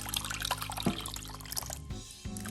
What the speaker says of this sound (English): now we're going to be putting the coconut milk